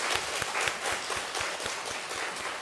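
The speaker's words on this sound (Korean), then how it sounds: "박수로 환영하시겠습니다." A church congregation at a Korean Sunday worship service applauds in welcome: steady, dense clapping from many hands, fairly close, filling the whole stretch without voices.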